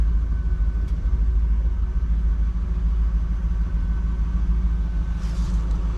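A 2002 Chevrolet Camaro SS 35th Anniversary with a factory Hurst shifter, its V8 idling in a steady, low, even rumble, close and continuous, with no voices.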